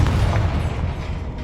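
Deep booming blast of a Confringo fire spell in the video game Hogwarts Legacy, a loud low rumble that sustains briefly and slowly fades.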